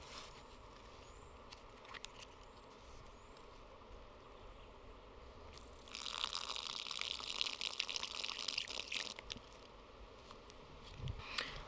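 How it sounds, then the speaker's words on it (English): Water pouring steadily from a Sea To Summit Pack Tap camping water container, a bright continuous splashing stream that starts partway through and runs for several seconds close by. "that is the best flow I have ever seen on a water container before"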